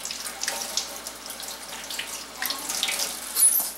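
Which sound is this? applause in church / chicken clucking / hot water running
hot water running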